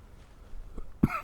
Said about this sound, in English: Apologize for the cough.